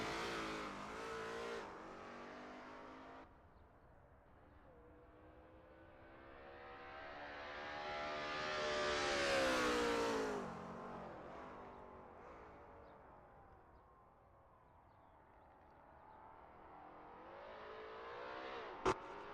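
A Lola T70 MkII Spyder race car in a video game sim at Sebring roars past on a flying lap, its engine note swelling loud as it approaches, then fading away before building again toward the end.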